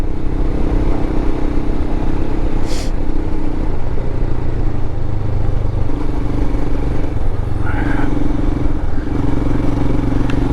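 A Royal Enfield Himalayan motorcycle on Shinko tires rides through snow on a mountain pass, its engine droning loudly and steadily close up with wind rush and a couple of brief higher whines.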